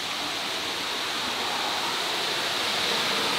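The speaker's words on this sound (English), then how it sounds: "I'm not sure if you can hear the sound of the waterfall yet, but it's like right here." A man-made waterfall along a downtown trail in Lynchburg roars as a steady, loud, unbroken wash of falling water, close by and alone, with no voices over it.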